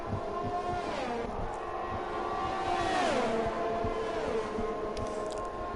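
An Alpine F3 race car at the Canadian Grand Prix in an F1 video game screams past on an overtake with DRS open, its high engine note dropping sharply in pitch through gear changes, loud and close.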